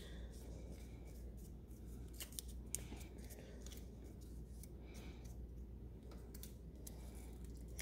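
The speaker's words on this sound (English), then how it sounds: "let me fold my butterfly a little bit so he's perkier" Soft crinkling and rustling of paper as a paper origami butterfly is folded by hand, scattered light crisp clicks and creases over a quiet background, no voices.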